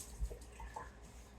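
Water running over pasta in a strainer while it is rinsed for a pasta salad, a faint, steady broadband splash with a few soft low bumps, heard alone without talk.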